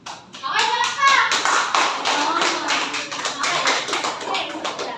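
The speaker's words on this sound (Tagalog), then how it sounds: "Okay, palakpak!" Children in a classroom clap along in quick, uneven rhythmic bursts, close by, with kids' voices chattering under and between the claps.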